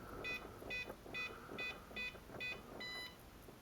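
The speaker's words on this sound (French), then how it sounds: "Là, il y a un bip long" An RC CX-20/Nova drone's trim confirmation beeper sounds a steady run of about seven short electronic beeps at an even pace, with the last tone held longer, loud and close, no talk.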